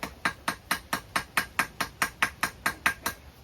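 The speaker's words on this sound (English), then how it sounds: "Nice light taps. Really set the weld." Light hammer taps setting a forge weld on chain, struck in a steady, even rhythm of about fifteen crisp, ringing blows, close and moderately loud with nothing else heard.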